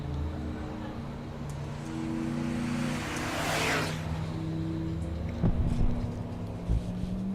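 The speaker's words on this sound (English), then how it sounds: "Both rides making their way down the 1320 here at Mo-Kan Dragway." Drag race cars launching side by side down the quarter mile at Mo-Kan Dragway during Rocky Mountain Race Week, a steady engine roar that swells and fades as the pair passes, with a brief sharper burst near the end.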